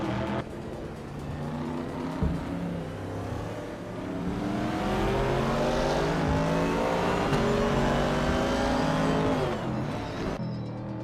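Racing cars in a racing video game, including a 1968 Holden Monaro, a loud continuous engine roar rising as the cars accelerate in a pack, with no talk.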